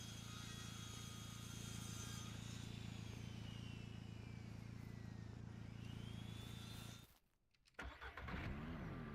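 A car engine in the video game Ranch Simulator hums and drones steadily with shifting revs as the car backs up, cuts out briefly, then roars back, with a synthetic game-like quality.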